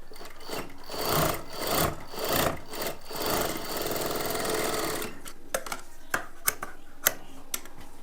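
A sewing machine stitches the shoulder seam of a plain blouse in close, whirring bursts that run continuously for several seconds, then stop, leaving a few sharp clicks and taps.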